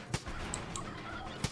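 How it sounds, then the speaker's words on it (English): Two short bursts from a turkey in the Far Cry 5 video game, one near the start and one near the end, rising over a steady background of game ambience. "Oh, it's turkey!"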